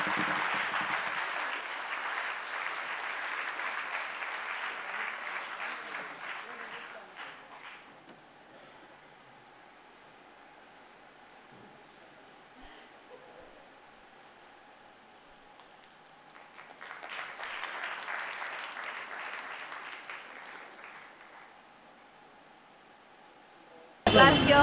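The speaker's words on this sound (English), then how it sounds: "the loudest round of applause" Audience applause fills a hall at a Women's Cancer Initiative event, a long sustained round that fades into quieter room noise before a second swell of clapping near the end.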